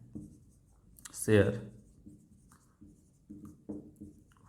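Chalk or marker scratching on a board during an accounting lesson on share forfeiture, faint, close taps and strokes in short bursts, with someone speaking Hindi over the writing.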